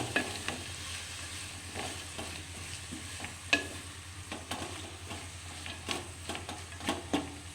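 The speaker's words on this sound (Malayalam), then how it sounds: "രണ്ട് തക്കാളി ഒരു നാല് പച്ചമുളക് കീറിയത് അല്ലേക്ക് ഇട്ട് കൊടുക്കാം ഒന്ന് മിക്സ് ചെയ്യണം" Tomatoes and slit green chillies sizzle in a pan with sliced onion, a soft steady fry broken by repeated scraping stirs at irregular intervals, quiet and without talk.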